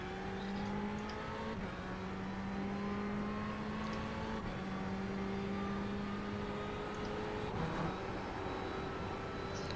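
Race car lapping the Daytona banking in the iRacing sim, a steady high engine whine holding pitch through the long turn with slight shifts and brief dips, continuous and moderately loud.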